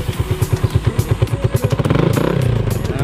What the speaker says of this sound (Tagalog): Tingnan natin yung tunog ng ating tambotch,